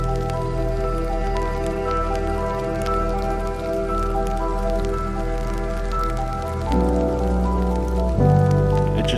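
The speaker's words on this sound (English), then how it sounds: "I think it's just really light hail" Light hail falls steadily on a surface outdoors along a hiking trail, giving a dense patter of small ticks over a steady rumbling background, with no voices.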